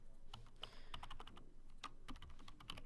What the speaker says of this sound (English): We could type in